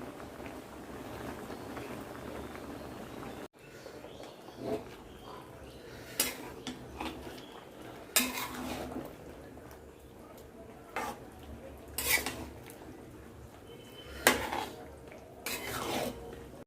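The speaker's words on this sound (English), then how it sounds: "Now we'll add dal into this vegetable." Dal being added to boiling vegetables in a cooking pot, with metallic clinks and scrapes of a spoon against the pot over a low bubbling, rumbling boil, spaced clatters standing out.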